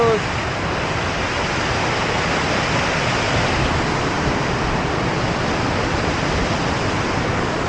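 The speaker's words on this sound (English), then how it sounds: "More waterfalls." A waterfall on a mountain trail at UTMB 2024 rushes in a loud, unbroken roar of white noise, close and constant throughout with no voices over it.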